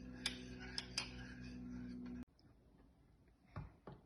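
Instant coffee stirred in a cup, a few quick metallic spoon clinks against the rim over a steady hum that cuts off, followed by a couple of soft knocks in near silence.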